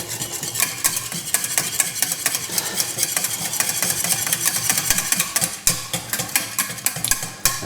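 Cheese sauce seasoned with pepper and nutmeg is stirred in a pan, a spoon scraping and clicking in a quick steady rhythm over a soft bubbling sizzle, close up with no talk.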